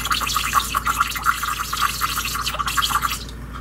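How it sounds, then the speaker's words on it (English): An airbrush tip dips into water for cleaning, giving a steady run of small bubbling, dripping blips over faint hiss, close and fairly loud. "I dip it down in the water."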